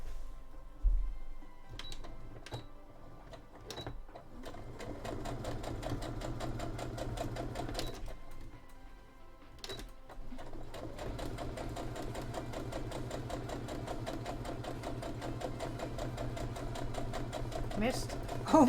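A sewing machine stitches cosplay fabric for a Sisters of Battle costume in steady, continuous runs with a few brief pauses and restarts, while a person talks over the machine now and then.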